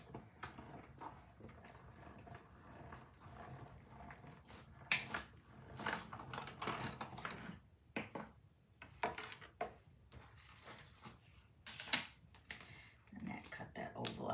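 A tabletop die cut machine cranks plates through with faint clicking, creaking and ratcheting sounds in irregular bursts, quiet and close, with no one talking.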